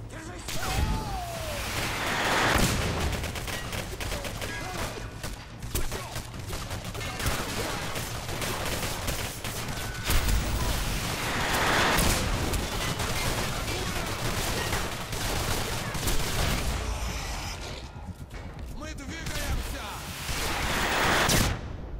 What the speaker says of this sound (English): shooting grenades, aren't they?